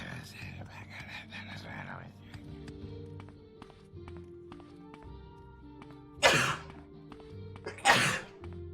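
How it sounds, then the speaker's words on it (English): Two sharp, loud sneezes burst out near the end, close to the mic, after quiet speech and soft background tones. "Sorry about the sneezes."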